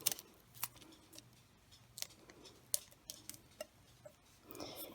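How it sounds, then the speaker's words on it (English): Tape is pressed and pulled onto a coffee cup being prepared for sublimation, giving quiet, scattered crinkles, snaps and soft taps close by, with no talking. "and then tape this side down."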